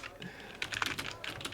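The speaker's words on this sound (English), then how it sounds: "Just a second, because I'm typing stuff, right?" Fingers tap on a computer keyboard in quick, uneven bursts of close, crisp key clicks with short pauses between runs, no talking.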